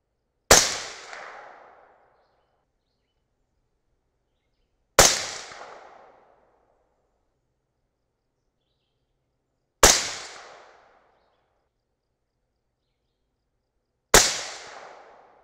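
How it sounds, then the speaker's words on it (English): .223 Remington rifle firing 77-grain Sierra MatchKing loads with Power Pro Varmint powder: four sharp, crisp shots spaced about four to five seconds apart, each fading quickly into silence, with no talking. "So we're gonna go ahead and continue shooting"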